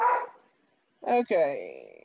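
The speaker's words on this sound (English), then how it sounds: "I apologize for the dog barking." A dog barks near the microphone, one short bark at the start, then a voice speaks a brief word after a pause.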